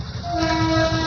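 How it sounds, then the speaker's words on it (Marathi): A train crossing at the Virar level crossing near Mumbai, loud and close, with a sustained horn blast over a heavy rumble of the passing cars. "नाही, अजून एक ट्रेन आली या साईडनी."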